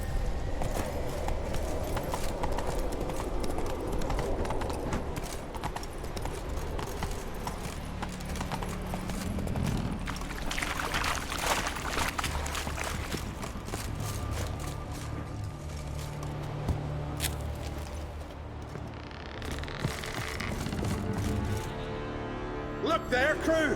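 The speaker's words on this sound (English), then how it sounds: "Whoa there, Roach." Horse hooves in The Witcher 3 video game clop steadily at a walking pace, fairly faint under in-game ambience and a little game-character speech.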